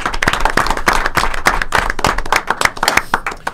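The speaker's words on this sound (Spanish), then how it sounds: "así que a él lo aplaudí" Applause for the author of a prize-winning short story, steady hand clapping with sharp dense claps throughout, loud and close, no talking.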